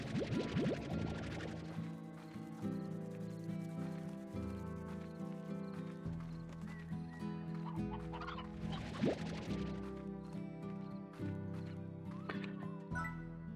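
Chickens cluck in Slime Rancher over steady background game music, with short bursts of clucking at the start and again partway through, moderately quiet.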